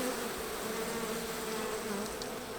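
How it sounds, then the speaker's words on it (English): Honey bees at a Kentucky hive buzz in a dense, continuous drone close to the listener, steady and loud throughout with no talking. "these are Josh's bees, so I'm going to stir them up real good"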